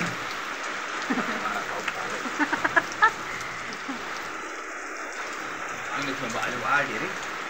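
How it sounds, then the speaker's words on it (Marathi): Heavy rain falls steadily on a farm, a continuous broadband hiss with scattered drip-like clicks, while a voice speaks over it. "अहो लय पाऊस आहे."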